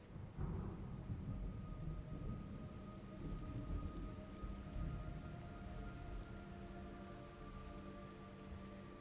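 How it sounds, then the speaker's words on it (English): Steady heavy rain with rolling thunder in the video game Metal Gear Solid Delta: Snake Eater, a dense continuous downpour with deep rumbles throughout, no voices. "It's raining blood."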